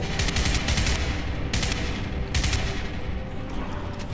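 Gunfire from a firefight in the video game Crysis Remastered during an alien invasion, loud sustained automatic bursts with dense rattling volleys that keep going without a break.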